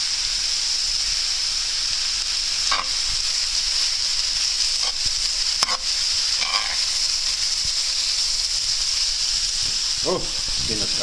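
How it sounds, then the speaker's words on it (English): Carrot, beetroot and onion sizzle steadily in a frying pan, a constant close hiss of frying broken by a few soft stirring clicks and scrapes. "our vegetables already cooked in a frying pan."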